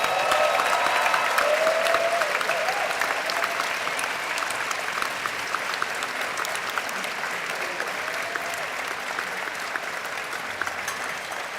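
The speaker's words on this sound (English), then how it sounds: "round of applause for the class of 2025." An audience at a Penn Dental Medicine white coat ceremony breaks into sustained applause, with dense, even clapping from a large crowd continuing for more than ten seconds.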